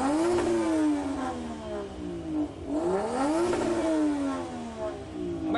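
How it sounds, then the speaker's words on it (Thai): A Mazda RX8 fitted with a swapped Toyota 1JZ engine revs hard and close, its pitch sweeping up and falling back twice in long, loud surges with no talking. "ไม่มีความเป็นโรตารี่แล้วนะฮะเพราะว่านี่คือเครื่อง Toyota 1JZ"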